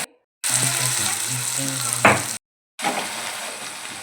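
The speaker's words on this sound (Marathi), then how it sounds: "कढईमध्ये कांदा चांगला परतून घेतलेला आहे" Onion and tomato sizzle hard in a kadai for a gravy, a loud steady frying hiss broken by a short gap, a stirring scrape near the two-second mark, then a second burst of sizzling.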